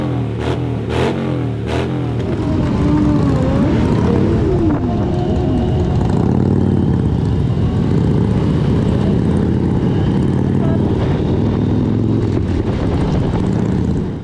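A Hero Xtreme 160R motorcycle's 160cc engine revs and climbs steadily in pitch on a highway, loud and close, with rushing wind noise throughout.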